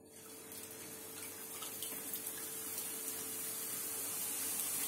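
Boondi batter dropping through a slotted ladle into medium-hot ghee, a continuous loud sizzling hiss that builds steadily, with no voices.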